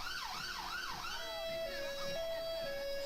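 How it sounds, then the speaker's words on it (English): A police siren wails in rising and falling sweeps at a carnival, then settles into a steady two-tone pattern, loud and fairly close over background noise. "the police tried to use their sirens to drown the band out"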